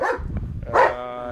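A pedigree dog at a kennel gives a short bark followed by a longer whining, yelping vocalization, close and loud against a noisy background.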